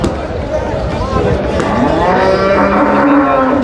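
A cow at the Dabwali cattle market gives a loud, close, drawn-out moo that carries through the whole moment, over the busy background murmur of the livestock fair.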